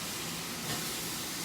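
Tofu stir-fry in a hot pan, sizzling and steaming after orange zest and orange flavoring go in; a broad, steady hiss fills the brief moment up close with no talking.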